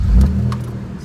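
A 1989 first-generation Toyota 4Runner with an intermittent no-start relay fault catches and runs, its engine rumbling close and steady after a brief rev, with no talk over it.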